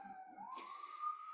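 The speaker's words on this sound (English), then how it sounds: "Hello, sirens." A faint siren wails in the distance, its tone sweeping slowly upward and holding steady for about a second against a quiet background.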